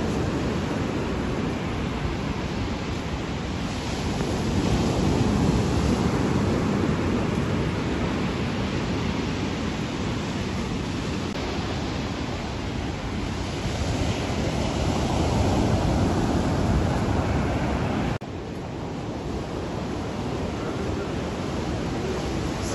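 Sea waves on the Odessa coast in November, a steady broad wash of surf mixed with wind buffeting the microphone, swelling and easing gently, with a sudden drop in level near the end.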